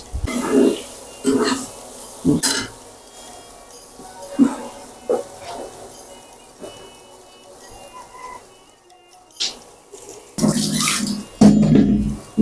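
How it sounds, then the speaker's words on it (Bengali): Lentils being rinsed in water in a home kitchen while a vegetable dish is prepared: close, intermittent splashing and swishing bursts separated by quieter pauses, with no talking. "ডাল ধুয়ে নেই"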